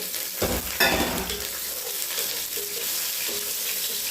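Chopped onion fries in a pot for ghee rice with a steady sizzle and crackle, broken early by a couple of louder stirring scrapes and clanks before settling into continuous bubbling hiss.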